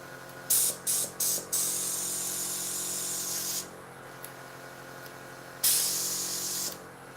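Bursts of fine hissing primer spray from an airbrush on a 1/48 scale Tempest model, a few short sputtering puffs, then longer sustained sprays with quiet gaps between, close by.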